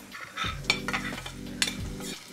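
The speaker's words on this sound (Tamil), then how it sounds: "இந்த எண்ணெய்க்குள்ளே ஒரு வெங்காயம் கட் பண்ணி வச்சுருக்கிறேன், அதை இதுக்குள்ளே போடுறேன்" Chopped onion and fennel seeds dropped into lightly heated oil, a brief burst of stirring and spoon scrapes over a low steady sizzle, close and fairly loud, with no voices.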